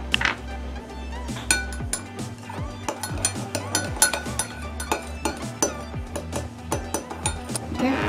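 Utensils clink and scrape repeatedly against a bowl while mixing homemade lip balm, in a steady, irregular rhythm, close and fairly loud, with a low hum underneath.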